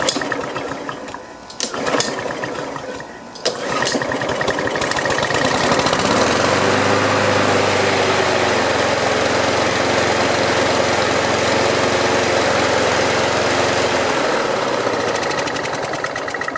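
A Snapper Ninja riding mower with a stuck drive disc: a few sputtering cranks and coughs, then the small engine catches and settles into a loud, steady idle that holds for over ten seconds.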